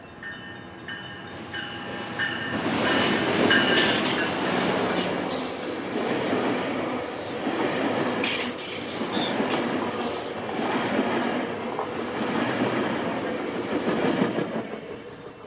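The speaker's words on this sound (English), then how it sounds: "Metrolink has just departed the Anaheim Canyon Station" A Metrolink commuter train pulls away from Anaheim Canyon Station, a loud, steady rumble of rail cars with wheel squeal and rhythmic clatter building and holding close by for the whole stretch.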